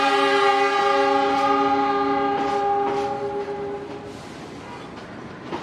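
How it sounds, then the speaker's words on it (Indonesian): The Mutiara Selatan train pulls into Bandung station in Indonesia, its horn holding a loud, steady chord for several seconds before cutting off, leaving a fainter rumble of the arriving train on the platform. "kereta api Mutiara Selatan sudah sampai stasiun Bandung."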